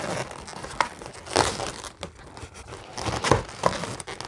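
A rubber modelling balloon being tied off a second time, giving close crinkling, squeaking rubber rubs in short irregular bursts, with no talk.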